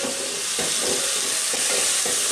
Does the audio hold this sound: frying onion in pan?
yes